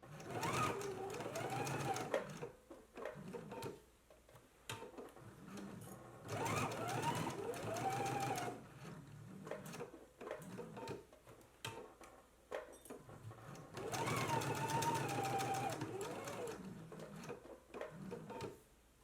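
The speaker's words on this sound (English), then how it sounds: "let's go ahead and stitch in a 5/8 of an inch seam allowance, again along the sides and the lower edge of the pocket" Stitching a pocket seam along its sides and lower edge, a sewing machine runs in three separate bursts of whirring motor with shifting pitch, quiet pauses of handling noise between them, close up and without speech.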